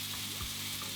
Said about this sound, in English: Get a bit of oil in there. Cook your egg.